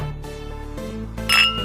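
Soju glasses clink together in a toast over kimchi jjigae, a bright, brief ringing chime near the end over a steady background hum.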